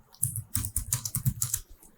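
Typing on a computer keyboard while entering data into a Microsoft Excel spreadsheet, a close run of quick, irregular key clicks with short pauses between bursts.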